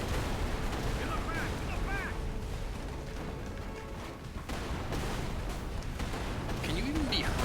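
Dense, continuous gunfire and booming blasts from the Avatar movie video game fill the whole stretch, loud and steady, with chirping creature calls and faint voices mixed underneath.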